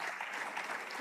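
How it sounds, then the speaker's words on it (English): A summit audience claps in a brief, dense burst of applause that fills the room evenly from start to finish. "I believe we need a louder round of applause for all of us"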